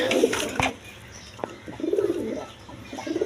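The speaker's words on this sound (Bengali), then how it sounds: "একদম বিগ সাইজের চিলা কবুতর দেখেন" Pigeons coo softly in short phrases at a pigeon market stall, with a couple of sharp knocks and rustles near the start and quiet background noise between the calls.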